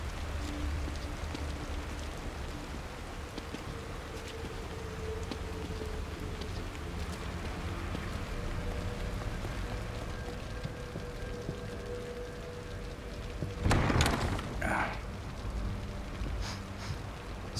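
Steady rain falls throughout a scene in the video game The Evil Within, a constant wash of hiss with a louder rumbling burst near the end, with no talking.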